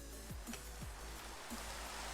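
Rain in the video game Minecraft hisses faintly and steadily over a low hum, with a few quiet descending chirps mixed in and no voices.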